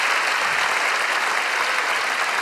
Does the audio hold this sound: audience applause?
yes